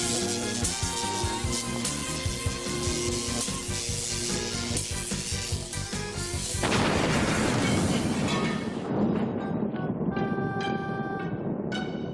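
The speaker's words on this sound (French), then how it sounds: "La machine va exploser." A cartoon machine blows up with a long, loud rumbling blast over busy background music, the roar swelling midway and then fading into ringing tones.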